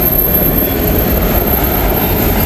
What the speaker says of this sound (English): Watching the train go past.